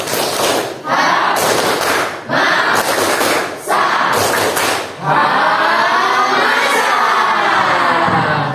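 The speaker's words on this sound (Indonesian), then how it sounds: "mari kita tepuk semangat bersama-sama terlebih dahulu" A school class claps together in a rhythmic spirit cheer, loud bursts of group clapping and chanting in repeated blocks, ending in a longer sustained stretch of voices.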